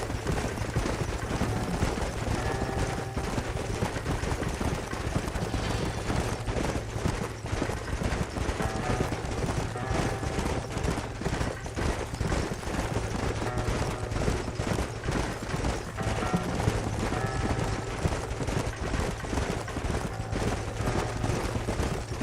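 Horses' hooves clip-clop steadily in the Red Dead Redemption video game, a dense, continuous rhythm of hoofbeats at fairly close range mixed with constant background noise, with no talking.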